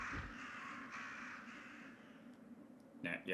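In the Resident Evil Director's Cut video game, crows give drawn-out harsh caws, several in a row, over a steady low game ambience, with a short louder burst at the end.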